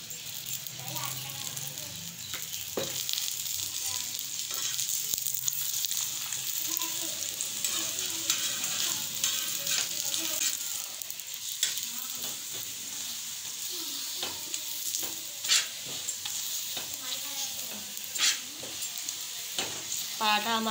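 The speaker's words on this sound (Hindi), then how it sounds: "दोनों तरफ से सेक लेंगे पराठे को। अब इसके ऊपर घी डाल देंगे।" A besan paratha cooks in ghee on a hot pan, giving a continuous crackling sizzle broken by sharp pops and spatula scrapes, with a voice speaking intermittently over the frying.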